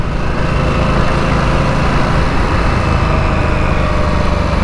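A Harley-Davidson Nightster motorcycle engine idles close by, a steady, even rumble with a dense low throb that holds unchanged for several seconds, no voices over it.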